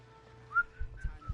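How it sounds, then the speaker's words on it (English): A few short whistled notes from a person, quiet and close, with a brief rising chirp followed by softer held tones and light thumps underneath. "Whistling on stream is forbidden."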